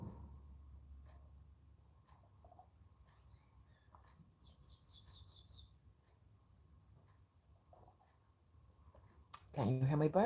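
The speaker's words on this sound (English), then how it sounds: "Can you hear my birds? It's awesome. Very peaceful." Pet birds give brief high chirps and twitters in a quiet room, faint and scattered, with a few soft clicks and a louder burst near the end.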